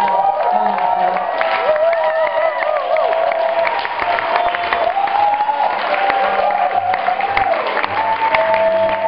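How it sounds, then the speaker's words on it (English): An audience breaks into a steady round of applause with some cheering and whoops, dense clapping lasting throughout at a constant level, with faint voices mixed in. "Let's give Fred a round of applause."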